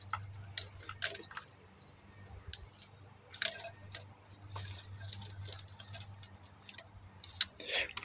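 Electrical plugs click as they are reconnected to the fuel injectors of a Mazda6, a few faint, sharp, irregular snaps and ticks close by over a low hum.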